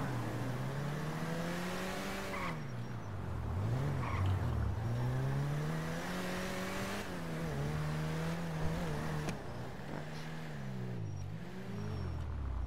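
A sports car engine in the video game GTA revs and accelerates hard, its pitch climbing and dropping through repeated gear changes, steady and close for the whole stretch with no talking.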